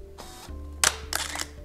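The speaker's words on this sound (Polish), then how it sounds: "przy okazji mamy klapnięcie migawki" A camera's shutter and mirror fire close by: a soft mechanical whir, then a loud snapping click and a second buzzing clatter, all within under two seconds, with no one speaking.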